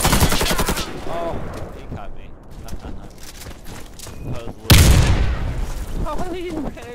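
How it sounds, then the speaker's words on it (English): Gunfire in the shooter Warface opens the scene, then a single sharp grenade blast bursts loud and near midway, surrounded by scattered shots and brief bits of voice. "he ran into his nade"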